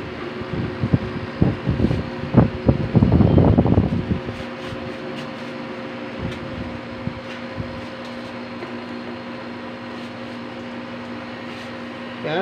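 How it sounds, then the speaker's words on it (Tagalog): A constant mechanical hum of a home air conditioner's blower fan running steadily, with some clattering and handling noises early on before the drone continues alone. "Yan yung blower maandar na"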